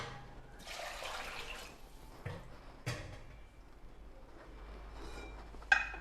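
Water pours into rice flour in a pot for Tamil thikkadi dumplings, a quiet splashing stream with a few soft knocks and a sharp clink near the end.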